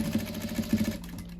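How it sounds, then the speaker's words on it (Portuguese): Short burst of a sewing machine stitching a gathered ruffle for a fabric doll, a close, quick mechanical hum with rapid rhythmic needle pulses that slows and stops near the end. "agora eu vou costurar"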